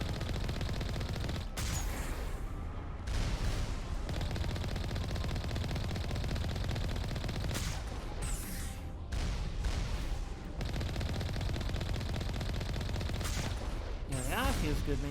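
Repeated bursts of rapid gunfire from the Mass Effect video game as cannons are shot down, loud dense volleys lasting a few seconds each and broken by brief pauses.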